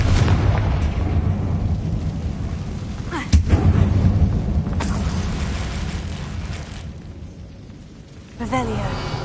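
A Confringo blasting spell explodes in Hogwarts Legacy, a booming burst with rumbling aftermath, another thud later, while a voice calls out over the blasts.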